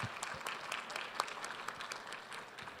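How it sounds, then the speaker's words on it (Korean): An audience at a conference fireside chat claps to welcome a speaker joining by video link. The applause is faint and steady, a soft patter of many hands from a distance throughout. "모두 큰 박수로 맞이해 주시기 바랍니다."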